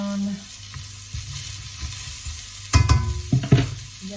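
Mushrooms frying in a pan, a soft steady sizzle broken by a few louder clatters and scrapes as they are stirred, close and without talk.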